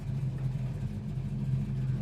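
A 1969 Plymouth Roadrunner V8 idles close by with a deep, steady, even rumble throughout, with no voices over it.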